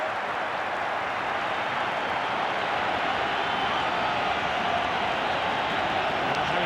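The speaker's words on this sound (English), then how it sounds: "this crowd in Sydney is on their feet, applauding the Socceroos' efforts" Stadium crowd in Sydney at a FIFA World Cup 2006 play-off football match between Australia and Uruguay, a steady, dense wash of applause and crowd roar held at even loudness throughout.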